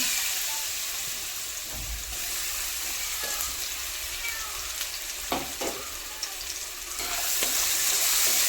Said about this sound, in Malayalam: നല്ലോണം ഒരു മഞ്ഞ ആവോളം നമുക്ക് ഇതൊന്ന് വാട്ടിയെടുക്കാം